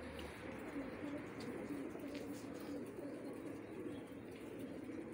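Pigeons cooing steadily in a loft, their low repeated coos carrying over a continuous bed of bird sounds, close and fairly quiet with no voices.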